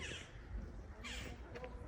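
Magpies call from a lakeshore near the castle at Jeziorany: a few harsh, chattering caws that sound faint and somewhat distant over quiet outdoor background.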